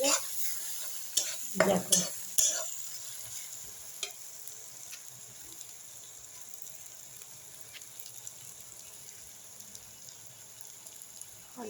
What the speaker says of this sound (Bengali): ঠিক আছে, ভালো করে মশলাটা কষা হয়ে গেছে।